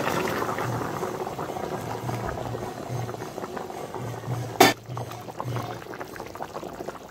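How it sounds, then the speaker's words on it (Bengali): Fish broth bubbles steadily in a cooking pot, a continuous close boiling churn with one brief sharp clatter partway through. "এই যে ঝুলটা ফুটে উঠছে"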